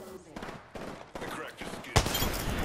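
Gunfire in Apex Legends, with several bursts of rapid shots in quick succession and a louder, sharper volley near the end, under a voice talking.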